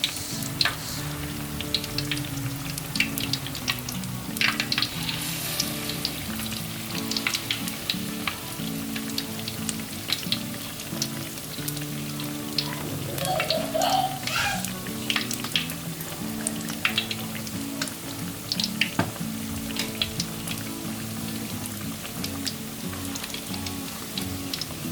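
Battered pumpkin pieces fry in hot oil with a steady, dense sizzle and crackle running throughout, with occasional small spits and pops rising over the bubbling.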